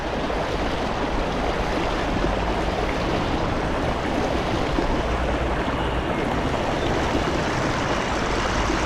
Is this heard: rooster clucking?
no